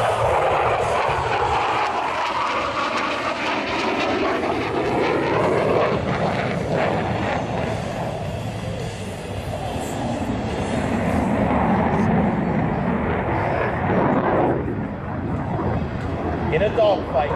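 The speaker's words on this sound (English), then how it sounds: "Coming in from your left, the F-16 and the triple probe." An F-16 fighter jet passes at an air show with a loud, continuous roar that swells and fades, while an announcer talks over it throughout.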